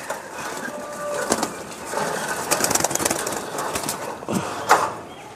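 Desi Giribaz chot pigeons coo and shuffle nearby, soft low calls mixed with scattered clicks, scrapes and brief wing flutters in a busy loft.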